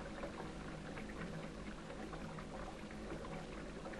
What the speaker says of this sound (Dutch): Draait u die kraan maar eens open.